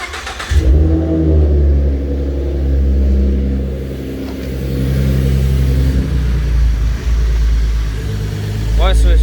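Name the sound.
Ford car engine started and idling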